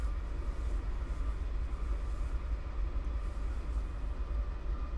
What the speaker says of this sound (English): as we watch the crew start up this locomotive